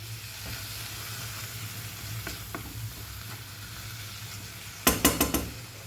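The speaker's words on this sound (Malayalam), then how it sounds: "ബീഫ് ചേർത്തതിന് ശേഷം നമുക്ക് നല്ലതുപോലെ ഇതൊന്ന് മിക്സ് ചെയ്തെടുക്കാം" Beef fries with black pepper in a pan while being stirred, giving a continuous hissing sizzle with a few soft scrapes, then a quick run of four loud spoon knocks against the pan near the end.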